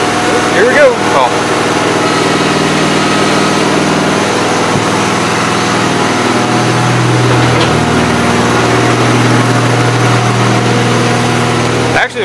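Gravely 8163-T riding tractor engine running loud and close, a steady low chugging drone with a shift in pitch partway through, with a voice over it.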